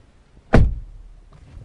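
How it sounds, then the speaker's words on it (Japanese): A Honda N-One kei car door shuts with a single solid thump, close and loud, followed by a short low decay with no talking. "軽自動車としてはかなりこのドア閉め音が、なんて言うんでしょう、高級感あるというか、安っぽさがないですね"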